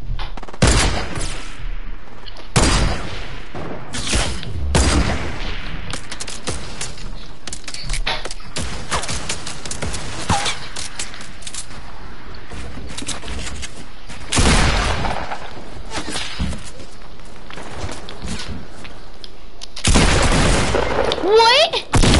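Sniper rifle shots in a video game ring out as several loud, sharp blasts spaced across the stretch, among other gunfire and game noise, with a player talking over the action.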